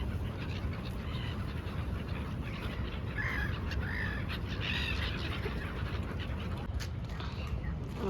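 Birds flocking on the Tapi river in Surat near the Siddhakutir Mahadev temple, where people throw food. Scattered bird calls sit over a steady, loud wash of outdoor noise throughout.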